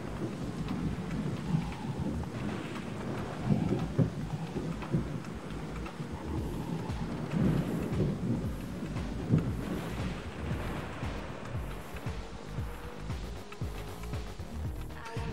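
Thunderstorm with steady rain and low rumbling thunder, used as an ambient layer in the rally racing game Mobil1 Rally Championship; continuous and moderately loud with rolling swells.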